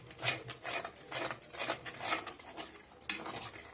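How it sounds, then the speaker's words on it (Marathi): A spoon scrapes and clinks around a pan of Afghani egg curry as it is stirred and mixed, a steady run of close metallic strokes with no voices over them. "आता हे सारखी ह्याला हलवून मिक्स करून घेऊया आणि पाच मिनटासाठी याला झाकून ठेवूया"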